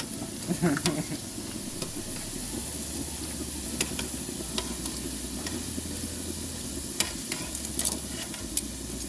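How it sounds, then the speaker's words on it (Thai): Sausages frying slowly on low heat in hot oil, a steady soft sizzle and hiss running throughout with a few faint clicks and stirs, close and continuous. "ทอดไฟอ่อนนะอดไปเรื่อยๆ"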